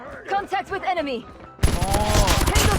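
Rapid bursts of MK2 rifle fire in Call of Duty Mobile, a dense run of close, loud shots that starts suddenly partway through after a stretch of talking.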